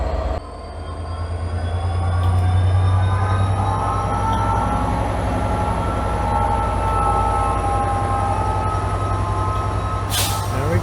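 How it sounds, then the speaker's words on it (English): A train departing a station rumbles steadily, its low drone building as it pulls away, with faint tonal whines above and a brief burst of noise at the end. "There we go. That was my train."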